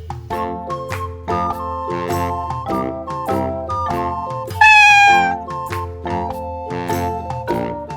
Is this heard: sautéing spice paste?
no